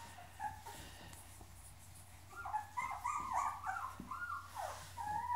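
Newborn puppies, still nearly blind, whimper and squeak in a pen, giving a cluster of thin, high, wavering cries over a low steady hum, close by and without talk.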